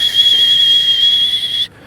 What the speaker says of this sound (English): So like if I whistle,